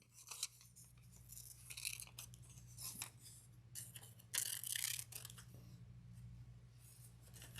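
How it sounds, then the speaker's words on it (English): Scissors snip paper pieces for a collage, a series of soft, close crisp cuts at an irregular pace, with faint rustling of paper between the snips in a quiet room. "So I'm going to cut these pieces just a little bit larger."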